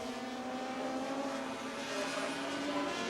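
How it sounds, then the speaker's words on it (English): Superbike motorcycles from a 1981 race lean hard through a corner at around 70 mph, their engines a dense, continuous roar that holds steady over three seconds, heard from trackside without commentary. "Barry Sheene up to Copper's Corner, around about 70 miles an hour as they crank these machines over at that angle."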